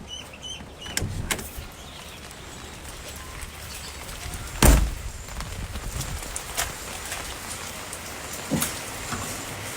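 Steady rain patters in the background near Pekin ducks, broken by a few sharp knocks and one louder thump near the middle.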